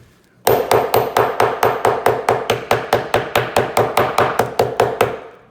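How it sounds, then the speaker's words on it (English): A hammer crushing crayons inside a bag strikes about twenty times in a quick, even rhythm, each blow a loud, sharp, close thwack with a brief crunch, heard alone. "I take my hammer."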